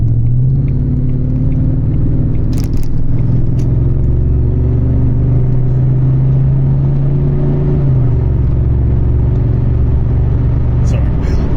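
A Jaguar X308 XJR with a supercharged V8 idling and pulled on gentle throttle, a loud close deep rumble that rises slightly in pitch and then settles, steady throughout with no pauses.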